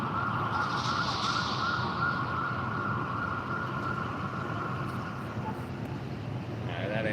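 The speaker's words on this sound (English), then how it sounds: "that ambulance isn't going our way" An ambulance siren passes along a Houston street, a sustained wailing tone heard from a moving bicycle over steady road and wind noise, fading slightly toward the end.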